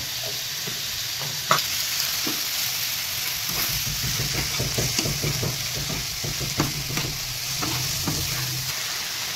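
Spices, tomato paste, ginger and turmeric frying in oil with cabbage in a pan, giving a steady loud sizzle throughout, broken by frequent scraping and clacking stirring strokes.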